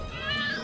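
Cats meowing in a TV commercial, a single drawn-out meow heard briefly over background sound.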